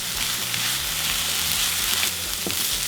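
Carrots, celery and garlic sauté in a pan for stuffing, giving a steady, close, even sizzle that holds without a break throughout, with no voices.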